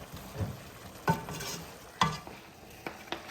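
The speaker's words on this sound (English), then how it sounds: "A little bit of garlic. That's minced garlic. Give it another stir." Minced garlic frying in a pan while being stirred for Liberian-style spinach, gentle sizzle broken by three or four distinct scraping strokes of a spoon, close and moderately loud.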